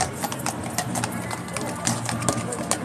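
Horses' hooves clip-clop on pavement amid a large protest crowd near the King's Guard at Horse Guards, a brisk uneven patter of clops under dense crowd noise and chatter.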